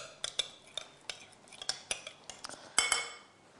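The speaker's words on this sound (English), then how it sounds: "we're going to mix that around until it's just combined in a nice colour" A spoon stirs an oil-and-spice tikka coating in a bowl, making repeated close, clinking taps and scrapes in an uneven rhythm.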